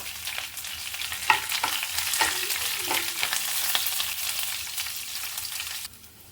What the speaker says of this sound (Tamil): வரமிளகாய், கருவேப்பிலை போட்டுக்கலாம்.